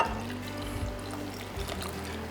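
Vinegar brine pours steadily into a jar of homemade dill pickles, a soft, continuous trickling and splashing heard close up at low volume without talk.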